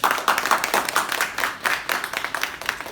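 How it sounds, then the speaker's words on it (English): Listeners clap for a short first speech at a Toastmasters-style club, a small group's uneven, close applause that swells and fades in bursts with no talking. "So a big round of applause for myself."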